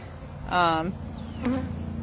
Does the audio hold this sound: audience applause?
no